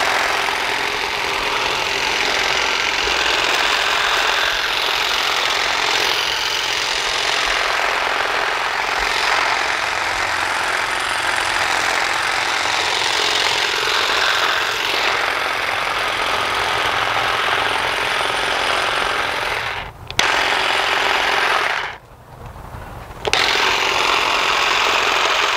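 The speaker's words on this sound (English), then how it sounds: "Let's test it out and see how it works. All right, so we're going to trim these off." Saker cordless hedge trimmer buzzes steadily as it cuts branches, a continuous motor drone with brief dips and cut-outs near the end.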